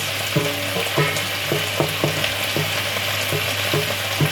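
Fried fish dropping into a pan for a Filipino fish-and-mixed-vegetable dinner, with a steady close sizzle of hot oil and a few soft clinks or stirring taps every half second or so.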